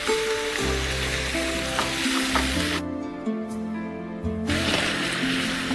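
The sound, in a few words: tomato puree sizzling as it is added to hot oil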